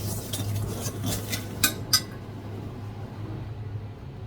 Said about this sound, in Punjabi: ਸਾਰੀਆਂ ਮਿਰਚਾਂ ਮਿਕਸ ਕਰ ਦਿੰਨੇ ਆ